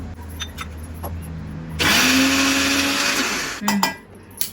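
A mixer grinder grinds fresh coriander, six or seven garlic cloves and dried coconut, starting abruptly with a loud high whir for under two seconds, then giving one brief extra pulse before stopping.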